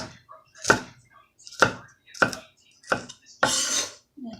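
A knife chopping vegetables for cabbage rolls on a cutting board: five distinct sharp chops at an even, unhurried pace, close and clear over a quiet kitchen background.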